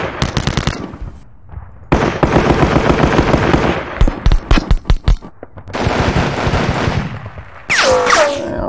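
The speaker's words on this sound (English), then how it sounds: "I've got an airstrike there, so I think I may throw it." Airstrike in the Sealion '40 wargame: bursts of rapid machine-gun fire and sharp explosive cracks, loud and close, broken by short gaps and ending in a rising whine.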